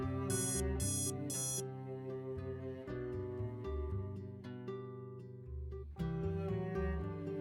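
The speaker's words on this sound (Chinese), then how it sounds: "这个报警器的分贝比普通报警器更高" A keychain pendant personal alarm, built louder than ordinary alarms, lets out three bright, shrill beeping bursts near the start, loud over continuous background music that carries on after it stops.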